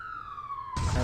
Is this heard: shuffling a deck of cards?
no